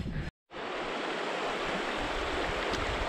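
A river swollen with snow meltwater rushes loudly and steadily nearby, a dense broadband roar that briefly cuts out before returning, with no voices.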